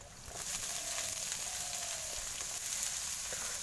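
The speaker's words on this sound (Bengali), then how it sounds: "তো চলো ভাজিটা ভেজে নিই।" Vegetable bhaji frying in a pan in a village kitchen, a steady close sizzle and crackle of hot oil running throughout without pause, no voices.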